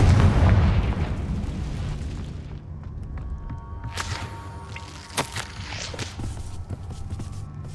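A Confringo fire spell explosion in the Hogwarts Legacy video game: a heavy boom that fades into crackling debris and scattered bursts, followed by footsteps.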